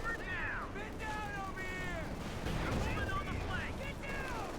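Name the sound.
Pak 40 anti-tank gun firing in video game Company of Heroes 2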